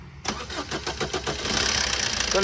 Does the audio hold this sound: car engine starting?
yes